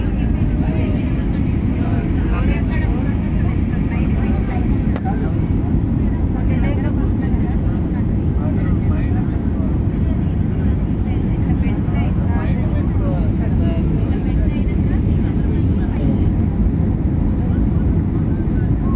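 Loud, steady airplane engine roar with rushing wind noise fills the cabin throughout a night takeoff climb, a continuous low rumble without breaks.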